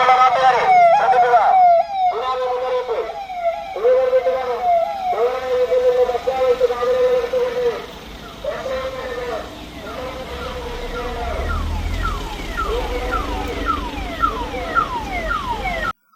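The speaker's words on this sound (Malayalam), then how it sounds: "അപായ സൈറൺ മുഴങ്ങുന്നതിനൊപ്പം" A tsunami warning siren wails during a mock evacuation drill at Azhikode Chal beach, its rising and falling tones repeating steadily and loudly for the whole stretch, with voices talking underneath.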